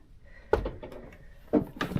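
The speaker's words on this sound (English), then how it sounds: "the drawers have never opened before, so that's a start." Drawers on a Crusader Hurricane caravan or motorhome being pulled open, giving two short wooden knocking slides about a second apart, fairly close and moderately loud with no talking.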